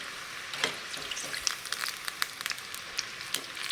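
Kolhapur-style spiky onion fritters (kanda bhaji) fry in slightly overheated oil in a kadhai with a steady sizzle and frequent bright crackles and pops, close and moderately loud, with no voices.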